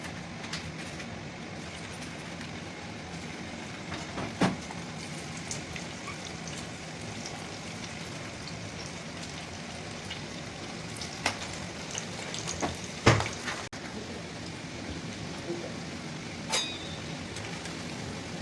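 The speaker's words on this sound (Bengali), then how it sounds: "তেল ঢেলে দিয়েছি, তেলটা গরম হয়ে গেছে। এবার আমি এর মধ্যে চিকেনগুলো ঢেলে দেবো।" Chicken pieces frying in hot oil for chilli chicken, a steady crackling hiss like rain running throughout, with a few louder pops and spatters near the middle and end.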